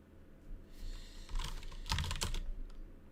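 Keys clatter steadily on a standard-layout computer keyboard, a close, busy run of clicks that swells in the middle and tapers off, with no voices.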